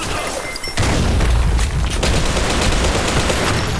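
Video game gunfire breaks out after a brief lull: a dense, loud fusillade of rapid shots crackles continuously at close range.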